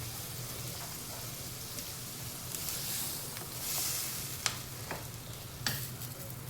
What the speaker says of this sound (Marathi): तर पहिलं गाजर टाकते